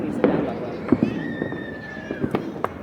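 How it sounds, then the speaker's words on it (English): Town fireworks on the Fourth of July pop at a distance, a handful of scattered bangs with a rising whistle between them, under people chatting close by. "Who else is shooting off fireworks?"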